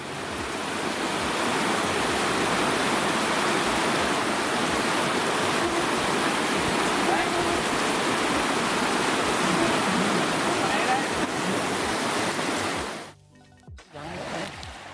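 Flowing river water in Pu Mat National Forest rushes steadily as a loud, continuous broadband wash, close and alone, breaking off abruptly near the end.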